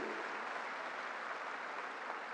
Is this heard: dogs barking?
no